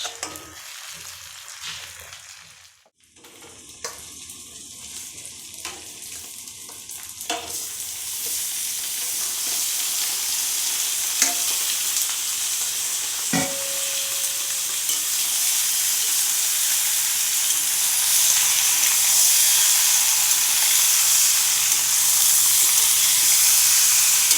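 Chicken is dropped into a pan of reddish fried onions, and a loud hissing sizzle swells and holds steady, with a few clinks of stirring over the spitting oil.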